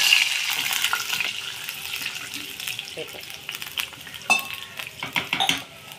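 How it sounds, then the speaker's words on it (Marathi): A glass of water poured into a pan of heated ghee, with clinking of utensils and short splashes and sizzles, loud and close, fading toward the end. "आणि आता ग्लास आपण याच्यामध्ये पाणी टाकून घेणार आहे."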